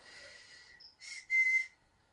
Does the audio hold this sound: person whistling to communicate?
yes